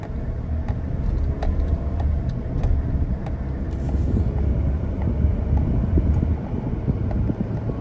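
A car drives steadily after a Lucas transmission fix installed to stop slipping, its engine and road rumble loud and continuous inside the cabin, with wind noise and faint ticking clicks throughout.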